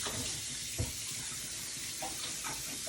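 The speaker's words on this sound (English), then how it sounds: "I'm gonna rinse them." Tap water runs steadily into a kitchen sink while a cup of blueberries is rinsed, a continuous close broadband splash with a few brief clunks and shifts in the flow.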